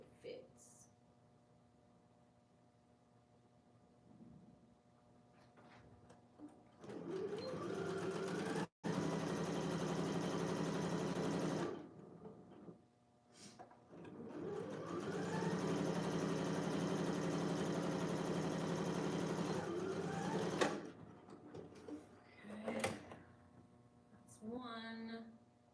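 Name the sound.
sewing machine stitching corset dress pieces together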